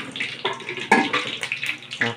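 Water is poured and splashed in short, uneven bursts for washing, close and fairly loud, with no talking.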